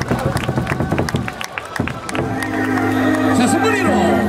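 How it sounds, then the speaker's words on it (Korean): A large crowd claps in rhythm at an LG Twins baseball game, sharp repeated handclaps giving way to a sustained loud stadium roar with amplified cheer music underneath. "마찬가지로 경례의 박수 부탁드리겠습니다."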